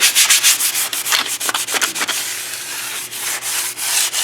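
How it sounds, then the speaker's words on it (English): Fine grit sandpaper scuffs the underside of a dash cover for a third-generation Chevrolet Camaro or Pontiac Firebird, giving steady, close rhythmic rasping strokes with short pauses between passes and no voices. "we're using some real fine grit sandpaper here on the underside of this dash cover"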